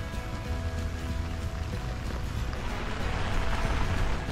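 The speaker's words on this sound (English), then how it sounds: "It's raining harder now." Steady rain falls outdoors, a soft, even patter on surfaces at moderate volume, with no talking.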